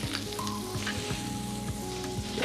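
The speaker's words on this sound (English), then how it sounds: "And I keep it moving all the time. And this is really the most efficient way of browning meat." Meat browns in butter in a pan while it is kept moving. A steady, close, dense sizzle runs throughout, with faint stirring scrapes.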